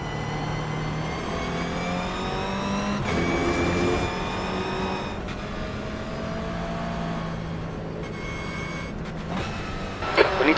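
Race cars roar around an oval track at a Saturday night stock car event, several engines revving and shifting pitch as they pass, loud and continuous with a burst of acceleration near the end.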